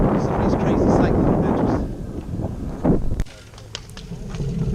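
Wind buffets the microphone while cycling at a practice crit in Marlton, NJ, a heavy roar that drops away partway through, leaving quieter outdoor noise with faint clicks.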